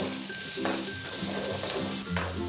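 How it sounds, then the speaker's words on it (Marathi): Onion sautéing in a pan for a sprouted moth bean curry, a steady close sizzle with a few scrapes of stirring and faint clinks of utensil on metal, no voices. "कांदा घातल्यानंतर आपल्याला हे छान असं हलवून घ्यायचं आहे"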